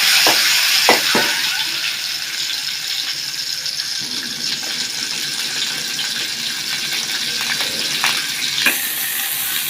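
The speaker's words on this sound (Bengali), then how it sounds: "এখন আমরা ডিমগুলো তেলের মধ্যে ভাজে নিতেছি।" Eggs coated in turmeric and salt fry in hot oil, producing a steady, close sizzle and crackle with occasional sharper pops and light stirring knocks, without any talking.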